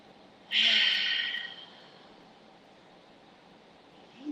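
A person deeply inhaling during a tai chi exercise: one long, close, breathy intake lasting about a second, then quiet room tone, with a faint voice starting at the end.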